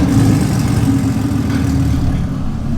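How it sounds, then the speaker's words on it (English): A heavily modified BMW car engine runs hard on a dyno, a loud, steady low rumble held close throughout the short span without any talking. "Car sounds angry."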